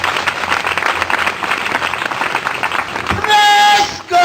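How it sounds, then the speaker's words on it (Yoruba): A church congregation claps and applauds at a prophet's service, a dense sustained burst of many hands close by that fills most of the moment before breaking off abruptly, followed by a brief electronic tone. "Bá mi pàtẹ́wọ́ fún ayérayé."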